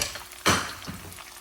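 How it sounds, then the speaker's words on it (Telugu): Mustard seeds, cumin, coriander seeds, garlic pieces, curry leaves and dried red chillies hit hot oil as tempering for coconut chutney, bursting into a loud sudden sizzle that then settles into a steady crackling fry. "కొబ్బరి పచ్చడి చేయడానికి నేను ఇప్పుడు పోపులు వేస్తున్నాను."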